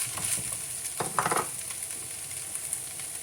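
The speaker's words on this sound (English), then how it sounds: "we're gonna add the onions" Onions stirred into already-cooked, drained ground meat in a pan, with a soft sizzle and a brief burst of scraping and clinking near the middle, otherwise a low steady hiss.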